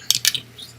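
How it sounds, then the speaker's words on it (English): Dice clatter on a craps table in a casino: two quick, sharp rattling clicks close together, then a lighter tick as they settle, close and fairly loud with no voices. "Dice rolled there."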